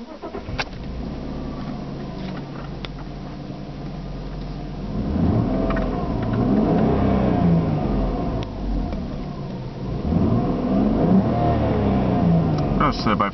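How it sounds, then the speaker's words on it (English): A 2002 Lexus IS200 engine idling then revving up twice, each rise climbing to a loud sustained roar before falling back, heard close with a person talking beneath. "So let's see how the Lexus sounds."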